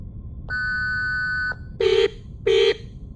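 An electronic warning alarm sounds from a box in the Reverse 1999 game: one long steady tone followed by two shorter, harsher buzzing beeps, clear and close.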